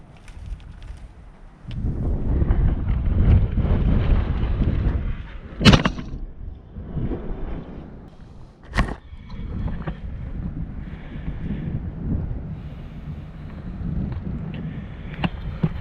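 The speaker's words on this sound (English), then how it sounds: "Come on, wind." Gusty wind buffets a microphone outdoors while pine trees and peppers are being planted, a loud low rumble that swells and eases in waves, with a couple of sharp knocks.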